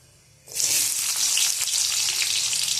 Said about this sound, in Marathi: जिरानंतर आपण त्याच्यामध्ये कांदा टाकूयात